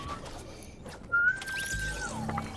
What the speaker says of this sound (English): Something screeched in my ear. Probably whistling. Yeah, but it was like so high pitch.